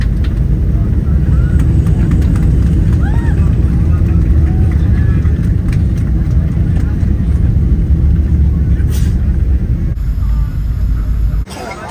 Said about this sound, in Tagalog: maya-maya naman ho, ay naglanding na rin ho ang eroplano namin sinasakyan